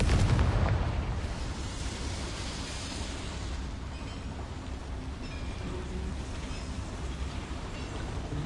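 A Confringo blasting spell in the Hogwarts Legacy video game goes off as a loud, deep blast at the start, then fades into a steady rumbling, crackling wash that carries on alone.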